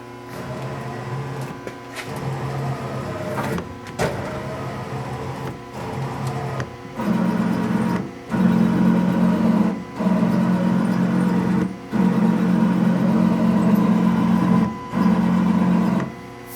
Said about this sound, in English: we just jog the axes in the spindle so you can hear it